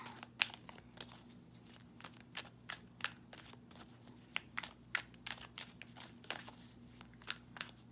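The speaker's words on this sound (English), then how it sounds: "I'm going to shuffle on camera here." Tarot cards are shuffled close up in quick papery riffles and taps, irregular bursts against a quiet room hum.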